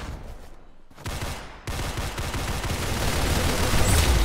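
Video game gunfire rattles in sustained, dense bursts, loud and close, broken by a brief drop before a steady, intensifying stream of shots.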